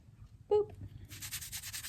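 Rubber doll legs are scrubbed clean of dirt, a brief vocal sound at first, then close, quick rhythmic rubbing strokes in short repeated bursts, fairly soft.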